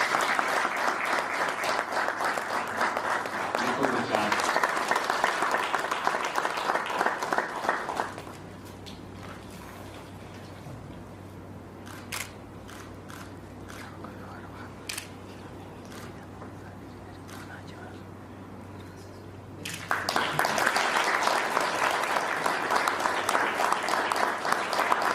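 An audience claps loudly and continuously at a ceremony in Rwanda, the dense applause dropping away midway to a quieter stretch with scattered clicks and a low hum, then surging back just as strong near the end.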